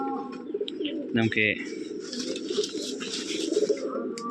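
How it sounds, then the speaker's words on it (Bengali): Giribaz pigeons coo softly and repeatedly at close range, low throaty calls spread through the clip, with a brief spoken word near the start. "আরও কিছু কবুতর আছে, ওগুলো দেখবো"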